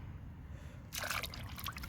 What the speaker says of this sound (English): make sure you kind of agitate them in the water